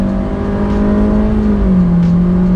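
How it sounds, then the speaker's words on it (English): Proton X50 1.5 TGDi SUV with a CVT gearbox accelerating hard from 0 to 100 on Sepang Circuit, a loud, steady engine drone heard from inside the cabin with rising and shifting pitch, no speech. "Instead of a traditional drag race, we're actually looking at the 0 to 100 time."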